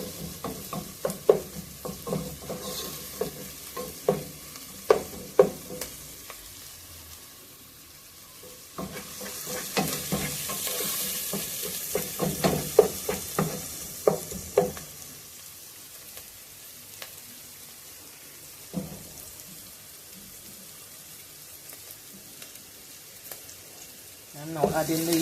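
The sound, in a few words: food added to a sizzling pot for Ital stew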